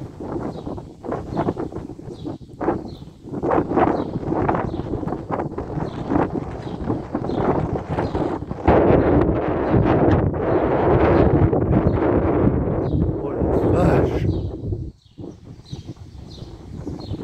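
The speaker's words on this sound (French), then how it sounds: "Oh, le vent." Strong gusty wind during a morning thunderstorm in the Alps near Grenoble buffets the microphone in roaring surges, building louder midway before dropping briefly near the end.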